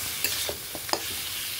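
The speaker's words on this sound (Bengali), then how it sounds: "মাংস দিয়ে আবার সুন্দর করে একটু ভেজে নেবো এর সাথে" Meat frying in a pan with salt and turmeric, giving a steady sizzle with a few scraping stirs and clicks of a utensil, heard alone without talk.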